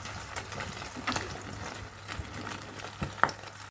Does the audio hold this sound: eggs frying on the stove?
yes